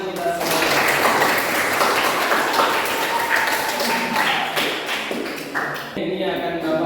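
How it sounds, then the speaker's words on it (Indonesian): A classroom group claps in a dense, sustained burst of applause for several seconds, with voices mixed in. "Tepuk tangan untuk kita semua."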